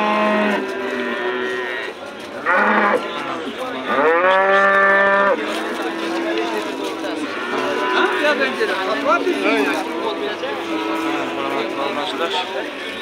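Cows at the Shahrikhan livestock market in Andijan moo in several long, loud calls, some overlapping, against a busy market background with people talking.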